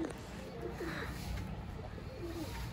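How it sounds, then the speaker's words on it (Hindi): A pigeon coos softly several times among colorful pigeons at a loft, low rolling calls over steady background noise with other faint bird sounds, no talking. "वो एक कबूतर आया है अभी अभी"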